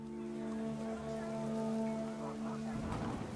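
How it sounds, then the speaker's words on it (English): Heavy rain pours down in the video game What Remains of Edith Finch, a steady, even hiss of downpour carrying a sustained humming tone over it throughout. "The rain came down in buckets then"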